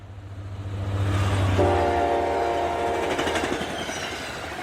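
A train rolls past with a loud, sustained horn blast and a building rumble of wheels, steady and close throughout.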